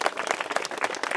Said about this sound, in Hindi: एक बार तालियां दादाजी के नाम पर